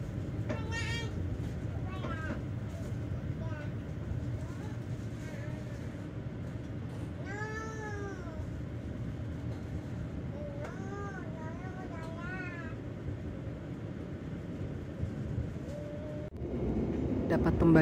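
Sembrani executive train rolling through Jakarta at night, a low steady rumble from inside the carriage with brief high squeals of wheels or brakes scattered throughout.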